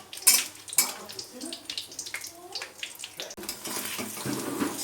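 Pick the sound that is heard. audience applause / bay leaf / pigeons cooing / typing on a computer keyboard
bay leaf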